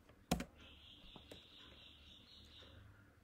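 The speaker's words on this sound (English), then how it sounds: "So let's type brew install colima." One sharp close key press on a computer keyboard, then a few faint clicks over quiet room tone with a steady high hum, while a terminal command is typed.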